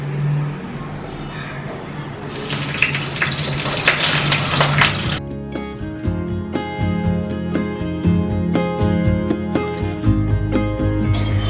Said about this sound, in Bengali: তাই জন্য আগে থেকে ফুলকপিটা ভেজে তুলে রাখবো